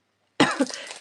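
A single short, sharp cough close to the microphone, breaking out of silence with a harsh burst and a brief rough tail.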